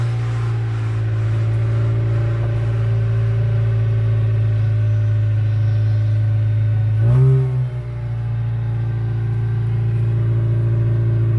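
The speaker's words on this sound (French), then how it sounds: "Donc je vais déplacer un peu la voiture." A Honda car engine idles with a steady low hum, then revs briefly as the car is moved a short distance, before settling back to idle, heard up close with no talk.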